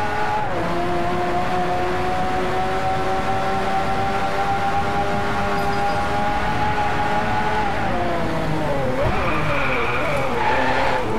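A Lamborghini Aventador LP720-4 50° Anniversario in the racing game Driveclub at full throttle, its engine wailing in a loud sustained tone that climbs steadily, then drops and rises again with shifts near the end.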